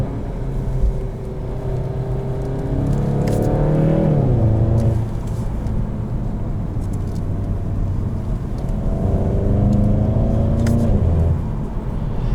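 A 2020 Volkswagen Golf GTI with a DSG gearbox accelerates hard, its engine note rising in two climbs, each cut by a quick gearshift, heard loud from inside the car.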